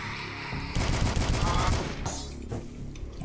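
Enemy gunfire barrage in the shooter game Dusk, a loud burst of rapid overlapping shots that swells suddenly, holds dense for over a second, then thins out with a voice faintly beneath.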